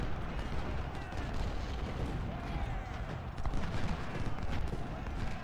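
Artillery fire in a Civil War strategy game depicting the Battle of Gaines' Mill: a dense, continuous rumbling barrage of booms and crackling shots that stays loud and steady throughout.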